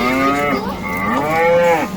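A single long, loud cow moo, close by, rising and falling in pitch over about two seconds.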